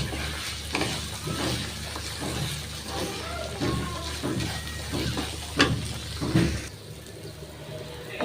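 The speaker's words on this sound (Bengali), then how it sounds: "আমি চালটা কষাই নিতেছি, লবণ দিয়ে দিচ্ছি।" Rice grains being sautéed and stirred in a pan with salt, green chilli, cardamom and cinnamon, giving a steady close scraping and sizzling texture with repeated stirring strokes throughout.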